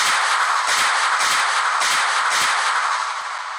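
Rocket launcher from a Minecraft PE guns mod firing a rapid volley of rockets in a video game, a series of loud booming blasts in quick succession that trail off slightly at the end.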